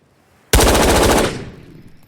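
Rapid automatic rifle fire in the VR shooter Ghosts of Tabor, one loud close burst of quick shots lasting under a second, then a fading echo tail.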